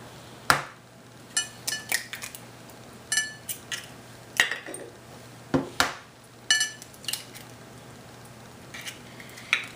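Egg being beaten in a pan with olive oil, heard as irregular metallic clinks and taps of a utensil against the pan, scattered in separate bursts with quiet gaps between them.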